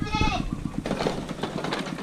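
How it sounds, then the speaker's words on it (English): Goats bleating hungrily in a farm setting, several overlapping wavering cries up close, followed by a stretch of rapid rustling and clatter as the animals move about. "I need to take the goats. They're all hungry. They're waiting to get out."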